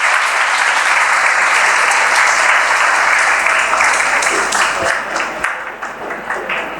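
An audience claps in sustained, dense applause as a colonel is welcomed onto the stage at a commissioned-officer event, loud and even at first, then thinning and tapering toward the end.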